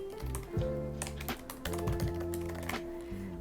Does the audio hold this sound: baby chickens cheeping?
no